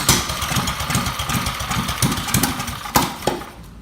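A 212cc mini bike engine running close by with a loud, rapid chugging pulse and a few sharper knocks near the end.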